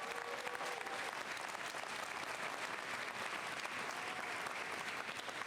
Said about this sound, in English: Another round of applause for our great MC, Aaron Gilchrist from Channel 4 News.